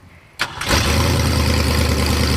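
A 1971 Pontiac T-37 engine cranks briefly and catches, then settles into a steady, loud, rumbling idle with a slight exhaust leak, right after a vacuum leak and idle mixture fix.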